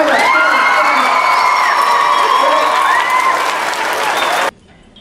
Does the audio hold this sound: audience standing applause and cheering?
yes